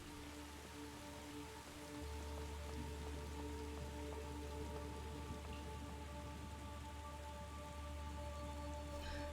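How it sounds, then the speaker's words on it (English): Video game rain from The Gardens Between: continuous rain falling and pattering on a surface, a steady dense hiss with faint scattered drips throughout. "I love the sound of rain."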